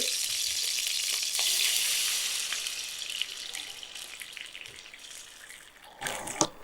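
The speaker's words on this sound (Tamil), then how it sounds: "பேன் வந்து நல்லா சூடாயாச்சு நெய் சேர்த்துலாம் அதில் கொஞ்சம் பால்" Ghee and milk sizzle in a hot pan for rose petal payasam, a loud bright crackling hiss that slowly fades, ending with a few sharp clatters from the pan.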